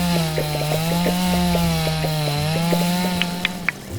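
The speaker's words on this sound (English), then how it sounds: "We can always just grab it with our trusty chainsaw right here." A chainsaw runs steadily through wheat in the video game Dinkum, its engine drone holding close and loud over a harmonic whine, with a few short sharp ticks near the end.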